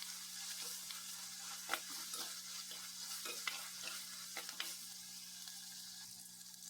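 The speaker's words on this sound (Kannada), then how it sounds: "ಮೀನು ಸ್ವಲ್ಪ ಸಿಮ್ಮಲ್ಲಿ ಇಟ್ಟಿದ್ದೇನೆ ಫ್ರೈ ಅದನ್ನು." Tuna fish frying on low heat in a pan, a soft continuous sizzle with light crackles and a few faint stirring taps, quiet and steady with no talking.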